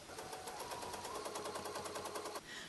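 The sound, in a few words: Bernina 830 sewing machine stitching with a ruler foot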